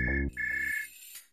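A telephone ringtone plays a short electronic melody of sustained tones, fairly faint and heard alone without talk.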